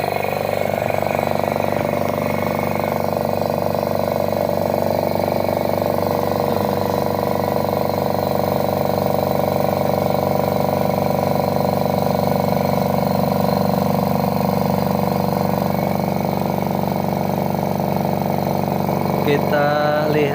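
A MATRIX 0.75 hp air compressor runs without pause, its motor and pump giving a steady, loud mechanical drone that holds constant from start to finish.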